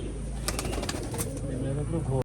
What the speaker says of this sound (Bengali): পায়রা এখন সবই ছেড়ে দিয়েছি দেখুন সব সাদতে ঘোরাঘুরি করছে